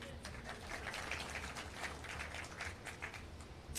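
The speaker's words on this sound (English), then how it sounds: "We can clap for that one." Audience at an education service medal ceremony with the Prime Minister claps steadily, a soft, scattered patter of many hands heard at a distance, continuous throughout.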